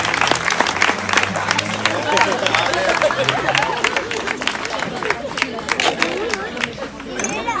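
An audience breaks into sustained applause, dense clapping and crowd noise filling the room with some chatter mixed in.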